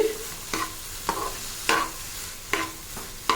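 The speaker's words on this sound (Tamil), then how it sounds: "நல்லா எண்ணெயிலேயே வதங்கணும்" Ingredients sautéing in oil in a pan, soft steady sizzle punctuated by five or six sharp stirring scrapes at regular intervals, close but fairly quiet, no talking.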